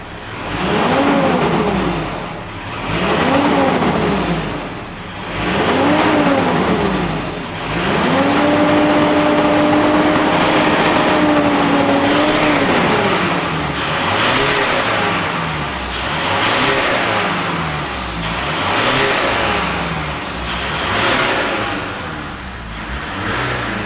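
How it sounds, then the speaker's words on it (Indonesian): A Mitsubishi Pajero engine is revved repeatedly, each throttle blip rising into a loud roar with a whining, droning tone, then one longer sustained rev followed by steadier running; no talking. "Ini kita coba gas lagi teman-teman. Nah, sekarang ini sudah muncul lagi tuh aumannya ya teman-teman."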